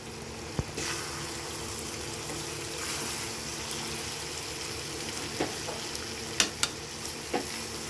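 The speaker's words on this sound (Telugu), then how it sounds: "అదిగోండి కారం వేసాక అత్తమ్మ ఇప్పుడు వచ్చి తిప్పుతున్నారనమాట." Chicken curry with chili powder sizzles and fries in a pan while being stirred, a steady soft frying hiss broken by scattered clicks and scrapes of the spoon against the pan, with no talking.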